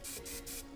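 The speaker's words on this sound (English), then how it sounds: "This is a really great hybrid of a working spray and a dry shampoo." Dry texture hair spray hisses from a can in quick short bursts, three close airy sprays in under a second, near and fairly loud with no talk.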